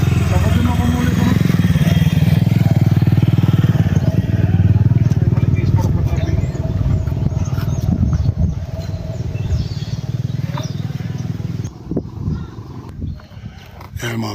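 A motorcycle-tricycle engine runs in Barangay Lut-od, Pinamungajan, Cebu, a loud, steady close rumble throughout that thins out near the end, with people talking over it.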